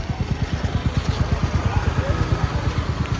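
A motorcycle on a night ride through Dombivali, its engine putting out a steady, rapid thumping pulse close by while people talk over it.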